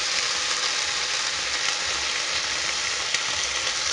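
About a tablespoon of tomato puree with sprigs of thyme sizzling and frying in a pan for tapas meatballs, a steady close hiss with faint crackles and one sharper pop.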